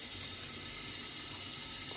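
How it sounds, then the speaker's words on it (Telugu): Ivy gourd frying in a pan gives off a soft, steady sizzle, faint and unbroken, with no voices. "దొండకాయ మంచిగా ఫ్రై అవుతుంది"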